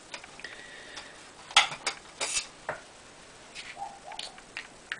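Liquids being stirred together in a small container, heard as a light series of close ticks, taps and scrapes of a stirring tool against the sides, irregular and fairly quiet with no talking.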